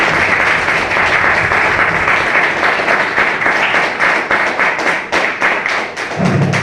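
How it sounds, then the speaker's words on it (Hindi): An audience at a network marketing business meeting bursts into loud, dense applause, sustained rapid clapping from a crowd that continues throughout and tapers slightly near the end. "तो उनके लिए जोरदार तालियां।"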